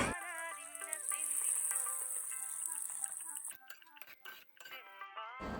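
Spoon scraping and clinking in a pot as tempering is stirred into jackfruit puzhukku: a few sharp metallic clinks and scrapes near the end, following a quieter stretch with a tonal background.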